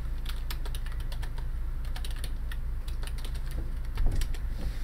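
Steady typing on a computer keyboard, a continuous stream of crisp clicks at irregular pace, close and clear over a constant low hum, with no one talking.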